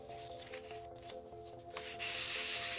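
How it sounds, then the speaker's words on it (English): Fine 1200-grit sandpaper rubbed back and forth over rusty metal on a vintage Singer sewing machine, a steady close scratchy rasp that grows louder and denser toward the end, with no talk. "So I took sanding paper with a fine grit,"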